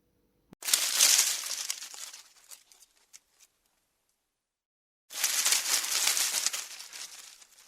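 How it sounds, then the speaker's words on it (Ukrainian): Two separate bursts of dry, crinkly rustling like leaves, each lasting a few seconds with a quiet gap between, fairly close and moderately loud. "А як шелестить листя?"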